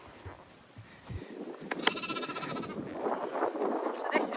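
Sheep and lambs bleat in an open lambing field, a loud close bleat standing out among several others, with wind and faint livestock noise around them.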